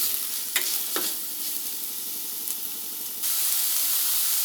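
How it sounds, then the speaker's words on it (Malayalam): Finely chopped onion sautéing in a pan for a poha breakfast dish, a steady close sizzle with a few sharp scraping stirs early on, then the frying hiss swells louder and denser near the end. "ഈ സവാള കൂടെ ചേർത്ത് കൊടുത്ത് സവാളയെ നമുക്കൊന്ന് വേവിച്ചെടുക്കാം."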